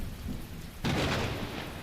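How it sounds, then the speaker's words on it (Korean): Rain and thunder sound inside a studio: a steady hiss of falling rain, then a sudden loud crack of thunder about a second in that rumbles on beneath the downpour. "스튜디오에도 비가 내리잖아"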